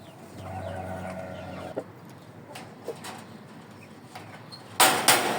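Hens that have been brooding, Ganoi and Saigon breeds, cluck softly and intermittently in a coop, with a few low calls close by and a louder burst of noise near the end.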